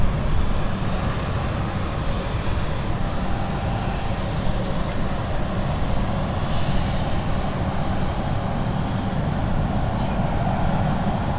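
An Embraer E190 airliner at London City Airport produces a continuous loud jet engine roar, broad and steady throughout, with a faint voice occasionally audible beneath it.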